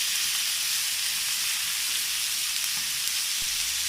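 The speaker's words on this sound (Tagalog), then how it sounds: "let's put in our marinated chicken. I-fry lang po natin ang isang side for 3 minutes" Marinated chicken pieces frying in a pan for soy sauce chicken, a steady dense sizzle and hiss throughout, close and even with no talk.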